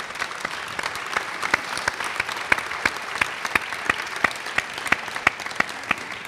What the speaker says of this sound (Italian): A cui facciamo un applauso.